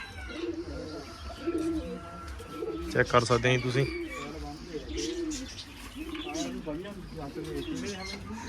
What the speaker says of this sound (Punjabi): ਉਰੇ ਅਲੱਗ-ਅਲੱਗ ਨਸਲਾਂ ਕਬੂਤਰਾਂ ਦੀਆਂ